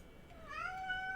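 A house cat gives one drawn-out meow indoors that rises and then holds steady, moderately close and not loud, over a low room hum with no talking.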